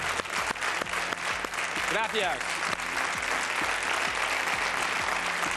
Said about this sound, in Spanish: un aplauso sincero y enorme para ellos